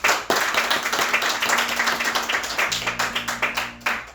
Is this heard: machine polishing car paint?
no